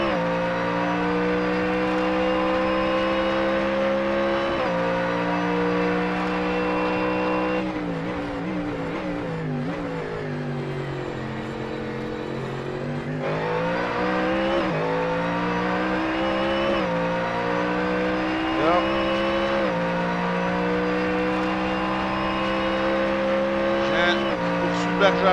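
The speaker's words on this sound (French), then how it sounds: "On se met à bord de la voiture d'Alexis Vigent." Onboard a GT3 race car at Sebring, the engine howls loud and close, holding high revs with upshifts and downshifts through corners, while a commentator talks over it.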